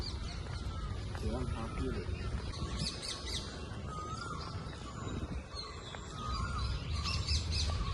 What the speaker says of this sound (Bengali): কি সুন্দর পাখির আওয়াজ